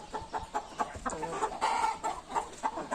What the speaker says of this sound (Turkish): Burada da tavuk horozlarımız var.